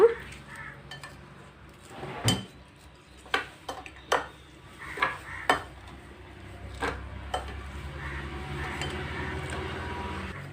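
A spoon mixing hot tempering through a potato pickle in a metal bowl, with several sharp clinks and scrapes in uneven bursts, then quieter steady stirring, and a low hum in the background.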